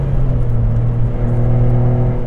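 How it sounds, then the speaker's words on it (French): Honda Beat small sports car engine as the accelerator is released to declutch: a loud, steady close-up engine hum with a low droning tone, continuous and unbroken, no voices over it. "Tu vois la petite quand on relâche l'accélérateur pour débrayer."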